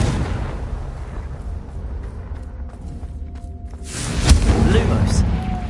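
A Confringo fire spell blast in a Harry Potter video game lands as a muffled booming explosion with a sharp crack, rising out of a low rumbling game soundscape while a voice talks.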